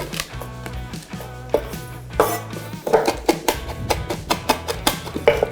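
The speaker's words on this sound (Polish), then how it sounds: "Jałowiec jest ciężki do krojenia, więc trzeba go zgnieść." Juniper berries crushed while preparing a grilled pork tenderloin steak: a close series of sharp knocks and clattering impacts, sparse at first, then quickening into a steady rhythmic pounding.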